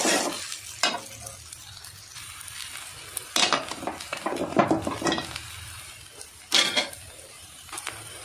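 Egg noodles stir-fry over a high flame, giving a steady close sizzle broken by repeated bursts of scraping and tossing in the pan.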